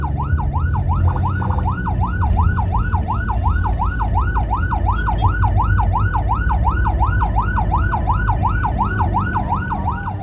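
An ambulance siren wails continuously in a fast, rapidly oscillating yelp, loud and close, from a priority vehicle on duty heading to Yogyakarta, with a steady rumble of road and engine noise beneath.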